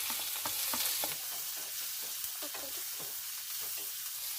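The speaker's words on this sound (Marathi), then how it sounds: "आता मी कढीपत्ता टाकून घेते त्याच्यानंतर आपण ही बारीक चिरून घेतलेली आहे ती मिरची घालून घ्यायची आहे" Curry leaves and finely chopped green chillies hit hot oil with garlic in a pan on medium heat, giving a steady close sizzle with crackling pops and a few stirring scrapes throughout.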